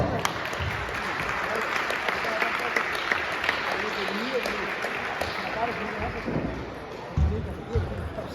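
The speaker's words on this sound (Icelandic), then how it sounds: "Gefið þeim gott klapp." Applause in a sports hall for the winners of a badminton mixed doubles final at the Icelandic championship, a soft, distant patter of many hands with an announcer's voice and some thuds over it.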